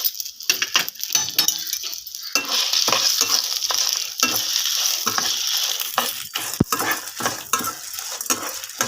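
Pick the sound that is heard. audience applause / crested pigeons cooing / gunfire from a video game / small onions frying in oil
small onions frying in oil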